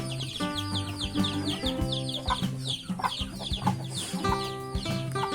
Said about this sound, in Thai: นี่ดูก็ให้อาหารไก่นี่